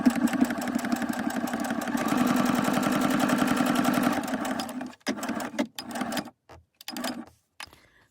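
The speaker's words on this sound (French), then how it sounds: "je vais venir coudre, hop, à 1 cm, à 1 cm des bords" A sewing machine stitches a plastic budget envelope one centimetre from its edges, a fast steady close-up mechanical chatter for several seconds, then short stop-and-start bursts as the stitching ends.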